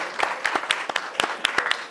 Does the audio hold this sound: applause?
yes